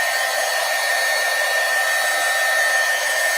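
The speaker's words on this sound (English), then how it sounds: "So I'm going to dry that distress ink." A hair dryer blows continuously over distress ink on a Christmas craft tag, a steady loud airy roar with no breaks.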